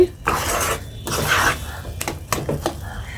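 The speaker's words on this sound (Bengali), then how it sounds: "আমি এখন চিনি দিয়ে দিচ্ছি টেস্ট অনুযায়ী। আপনারা কম বেশ করে দিতে পারেন। সবগুলো উপকরণ আমি ভালোভাবে এখন মিশিয়ে নিচ্ছি।" Chana dal barfi ingredients and sugar are mixed in a pan, giving close metallic scrapes and clinks of a utensil against the pan in irregular bursts, with quiet gaps between strokes.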